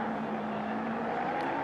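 V8 Supercar race car, number 2, on board during a 2007 race at Barbagallo, its engine a steady loud drone with a sustained tonal hum and road roar, no voices.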